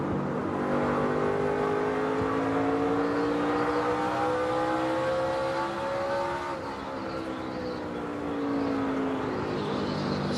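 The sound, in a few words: NASCAR race cars racing on track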